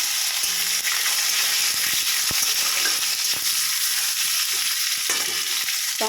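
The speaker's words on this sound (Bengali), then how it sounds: "শুকনো লঙ্কা 5 ফোড়ন ভাজা ভাজা হয়ে গেছে, টমেটো দিয়ে দিলাম।" Tomatoes hit hot oil with panch phoron and dried red chillies, and a loud, steady sizzle and frying hiss runs throughout, with occasional soft stirring clicks.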